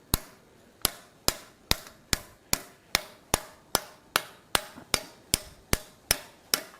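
A hammer strikes a steel ladle held in a cupping tool while it is being forged, about seventeen sharp metallic blows in a steady, even rhythm, close and clear with no talking.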